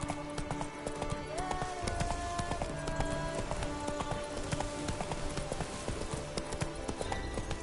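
Roach the horse in The Witcher 3 Blood and Wine, steady rhythmic clip-clop of hooves at a gallop, close and continuous, with game music and ambience underneath.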